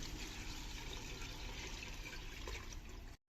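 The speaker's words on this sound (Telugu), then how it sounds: "ఇప్పుడు మన బిర్యానీకి కావాల్సిన అన్ని వాటర్ పోసుకోవాలి." Water is poured into a cooking pot while making millet biryani, a steady, faint splashing stream that runs continuously and cuts off abruptly near the end.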